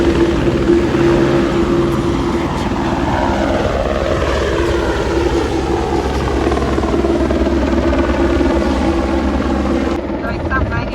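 Helicopter flying over mountainous country along the Alaska Highway route, a steady loud rotor and engine drone running throughout, with a voice talking over it.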